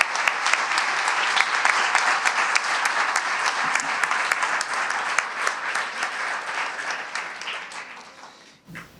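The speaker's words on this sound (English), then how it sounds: "let's offer them a round of applause." Conference audience applauding standing participants from schools, dense sustained clapping from a large crowd lasting several seconds before cutting off abruptly at the end.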